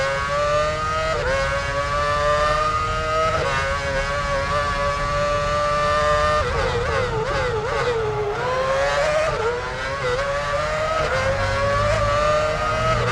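Formula 1 race car engine from an F1 Championship Edition career-mode lap, screaming at high revs throughout with rising and falling pitch through gear changes and corners, loud and continuous with no talk.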